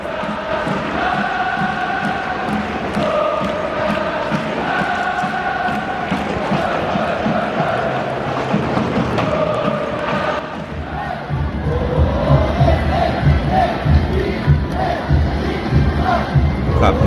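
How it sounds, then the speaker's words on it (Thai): Football fans inside Kashima Soccer Stadium after a J-League match, a large crowd chanting in rhythmic unison with repeated melodic calls, a loud continuous roar that swells further toward the end. "เป็นบรรยากาศตอนเชียร์ภายในสนามนะครับตอนบอลเตะเสร็จ"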